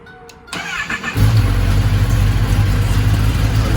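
A 2022 Kawasaki ZX-10R motorcycle fitted with an M4 slip-on exhaust and cat delete cranks briefly, fires up and settles into a loud, close, rumbling idle.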